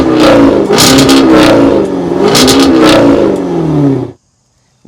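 A 2022 Jaguar F-Type P450 AWD with a supercharged V8 and a quad-pipe valved exhaust revs hard several times, a loud, close, roaring rise and fall for about four seconds before cutting to silence.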